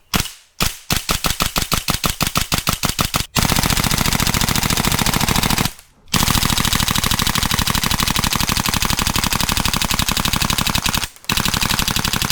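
Airsoft gun firing rounds through a PEQ15 chronograph box: a rapid string of sharp single shots, then long sustained full-auto bursts broken by short pauses, loud and close.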